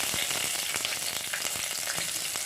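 Onion frying in hot coconut oil in a fish curry pan (meen chatti), a steady dense sizzle that holds close and even for the whole stretch, with faint stirring ticks.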